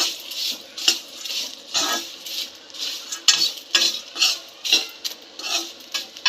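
Telangana-style okra and peanut fry gets stirred in a pan after salt is added: a quick run of scraping, clinking spatula strokes in an uneven rhythm over a soft background sizzle, close and with no talking.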